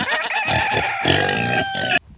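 A rooster crows loudly and close by, a single sustained call with chickens clucking around it, ending abruptly, near a chicken run.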